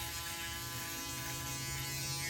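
Electric hair clippers buzz steadily close up during a taper fade haircut, a constant loud motor hum with no talking over it.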